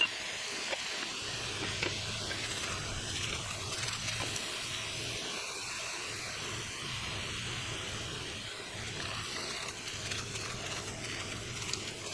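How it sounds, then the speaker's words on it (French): Beef for Flemish carbonade searing in a pan, a continuous hiss and sizzle with a few small pops mixed in, steady and close throughout, with no voices. "On fait revenir la viande jusqu'à ce qu'elle soit bien saisie."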